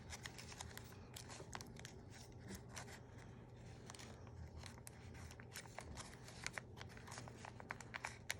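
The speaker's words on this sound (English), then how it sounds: "So simply fold this triangular portion down against the top of the flaps and crease the paper." Folded paper for an origami star is creased and rubbed close up, giving repeated crisp scraping swipes and rustles in an otherwise quiet room.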